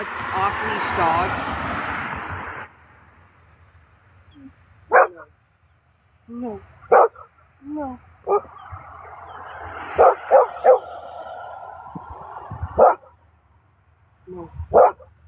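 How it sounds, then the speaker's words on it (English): An off-leash dog on a camping outing barks in sharp, repeated bursts at close range, with whimpers and yips between barks, while a person talks and scolds it. "An off-leash dog."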